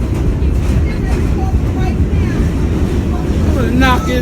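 Subway train riding from Yankee Stadium, a steady low rumble and roar of the car in motion throughout, with brief squeals near the end and people talking over it.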